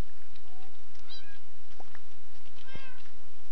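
Minecraft cat meowing in short, high, repeated mewls, several faint calls spread across a few seconds over a low game background hum with no talking.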